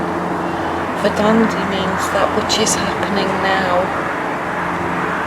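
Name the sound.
airplanes flying overhead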